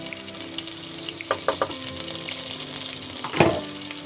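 Green chillies fry in hot oil while ghee rice and chicken curry are being cooked. The sizzle is steady and close, with a few sharp clinks and stirring knocks over the crackle.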